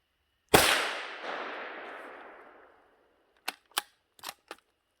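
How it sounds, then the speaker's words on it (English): A .22 magnum rifle with a short-barrel muzzle brake fires a single loud crack in the Adirondack woods while squirrel hunting, leaving a long rolling echo that fades over two seconds, followed by four quick mechanical clicks. "this 22 mag with a short barrel muzzle brake is really freaking loud"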